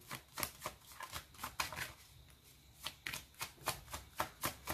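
Oracle cards handled and laid down, a quiet, close series of crisp slaps and flicks in an uneven rhythm, some in quick clusters and others spaced out, with no voice.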